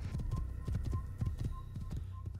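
Horse hooves clip-clop steadily in Assassin's Creed, a brisk, even galloping rhythm over a low hum, with no talk.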